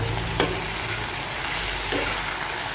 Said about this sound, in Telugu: ఉల్లిగడ్డలా చూసుకున్నాం అంతవరకు వచ్చిందా సరే కలుపుకుంటున్నా